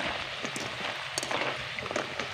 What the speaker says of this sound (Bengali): এবার হলুদ রঙের নিমকিগুলোকে ভেজে নেব।